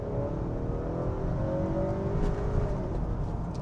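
A 2019 Honda Accord 2.0 Touring with the Civic Type R-derived two-litre engine pulls hard in sport mode, a steady rising engine drone heard from the cabin over road and wind noise.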